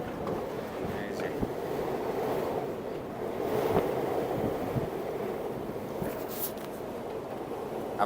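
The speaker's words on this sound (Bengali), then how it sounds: "সমুদ্রের যে গর্জন রাত্রেবেলা, সেটা আমি আপনাদেরকে একটু শোনাই" Stormy sea at night heard from aboard a ship, a steady broadband roar of wind and waves with brief gusts and rumbles throughout, no talk.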